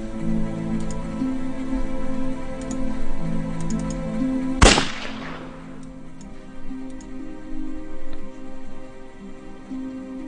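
A single sharp gunpowder gunshot bursts out loud and close midway through, with a brief decaying tail, over a steady background drone and faint ticking.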